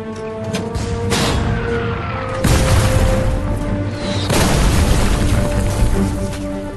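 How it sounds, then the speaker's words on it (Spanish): Heavy explosions boom repeatedly, with deep rumbling blasts and sharp cracks in a dense barrage of mortar fire, loud and continuous throughout. "los dos hombres fueron atacados con fuego de mortero"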